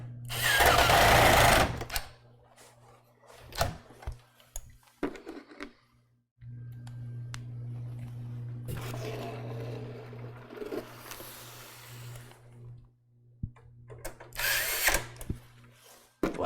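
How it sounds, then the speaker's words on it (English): A power drill drives screws down into a PC case during an NZXT build, with several loud whirring bursts separated by pauses, up close. "I'm tightening these down because they just want to."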